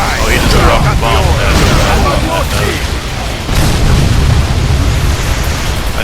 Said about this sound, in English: I need to stay by here until that bomb goes off